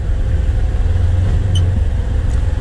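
A Polaris Ranger XP1000 UTV fitted with a Hunterworks belt drives through turns, its engine a loud, steady, close-up rumble and drone throughout.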